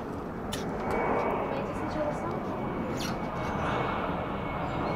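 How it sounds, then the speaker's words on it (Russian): An airplane flies overhead near Frankfurt, a steady, fairly faint engine drone and rush that holds throughout against outdoor background noise. "Да, за самолетами здесь тоже можно наблюдать хорошо."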